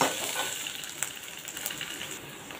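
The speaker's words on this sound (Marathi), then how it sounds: "अर्धा चमचा आला लसूण पेस्ट आहे। आता हे चांगलं परतून घेऊया।" Ginger garlic paste sautéing in a pan with a soft steady sizzle and faint crackle, plus a light tap or stir, fairly quiet and close, with no talking.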